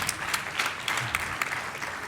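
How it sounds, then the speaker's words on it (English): An audience at a startup awards event applauds the organising team, a dense, steady round of clapping throughout the brief moment. "I want to ask you for an applause for my team"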